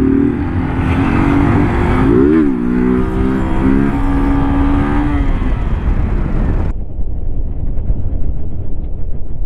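Motorcycle engine starting and revving up loudly, with rising and falling engine pitch sweeps, then cutting off abruptly to a quieter idle-like background; the bike is being run with its fuel tank valve opened.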